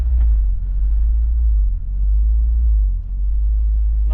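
A 1996 Mazda Miata NA sits in neutral with the brake held and its engine idling as a deep, steady rumble. The idle dips briefly a couple of times, suggesting an idle-control-valve surge.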